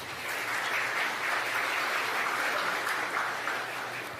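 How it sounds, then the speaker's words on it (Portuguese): Audience applause at a panel event as panelists are welcomed to the stage, an even wash of clapping held steady throughout, moderately loud with a low hum beneath. "Uma salva de palmas, por favor."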